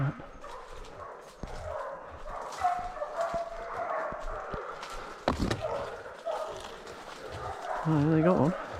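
Hunting dogs bark and yip while chasing feral pigs in a rainforest, scattered barks at moderate distance with a whimpering whine near the end, under frequent talk from people nearby.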